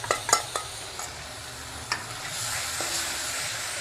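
Ginger-garlic paste frying with spices and salt in a pan for egg masala: a steady, gentle sizzle close up, with a few quick spoon scrapes and taps early on, then an even hiss.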